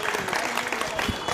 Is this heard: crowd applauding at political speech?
yes